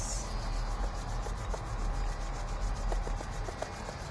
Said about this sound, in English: Rub the webbing in between your fingers.